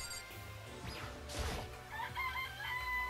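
Rooster crowing with chicken clucks in the video game Danganronpa: Trigger Happy Havoc, a short game sound effect set over steady background music, with a brief crash-like burst in the middle.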